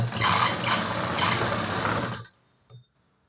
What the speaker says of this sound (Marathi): तर पहिल्यांदा हे सरळ बाजूनं शिलाई मारून घ्यायची